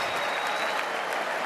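Crowd at the Republican National Convention breaks into steady applause, a dense wash of clapping and faint cheers heard from a distance, uniform for a second and a half with no talk over it.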